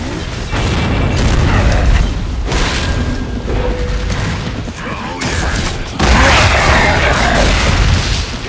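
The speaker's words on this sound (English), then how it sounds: "I just shot a dagger and it just exploded on the spot." Heavy booms and clanking mechanical bursts in the video game Gears of War 3, several loud blasts in quick succession with a large explosion near the end and faint voices underneath.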